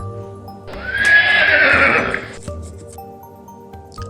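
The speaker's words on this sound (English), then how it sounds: "prancing impatiently with a nicker and a neigh" A horse hitched to a sleigh lets out one loud, close neigh that rises and then trails off over about two seconds, with faint hoof shuffling around it and no talking.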